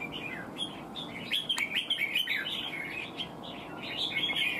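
Red-whiskered bulbul at a songbird contest, repeatedly calling with bright, rapid chirps and warbles in a dense, continuous stream over a steady background hum.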